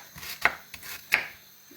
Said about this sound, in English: I'm just chopping the onions because I want people to chop them